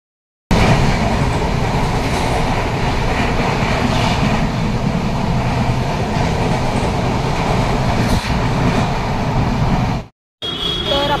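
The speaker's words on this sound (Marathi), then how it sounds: "आपण ट्रेन पकडलेली आहे" Inside a crowded general coach on a Konkan Railway train, a loud, constant rumble and rattle of the moving carriage carries on for about ten seconds, briefly cuts out, then resumes.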